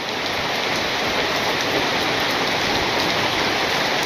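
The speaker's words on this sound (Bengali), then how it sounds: "আজকে বৃষ্টি নামলো একটু" Steady rain falls continuously, a dense even hiss of drops with no pauses and no voices.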